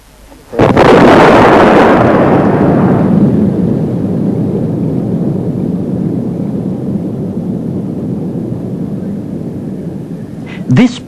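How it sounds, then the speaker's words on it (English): A dynamite blast set off in quick clay terraces at a landslide site, about 1 kg per 100 cubic metres of clay: a sudden loud boom followed by a long rumbling roar that slowly fades, with a faint second thump near the end. "This blasting caused the remaining quick clay in the terraces to liquefy and run out into the slide area."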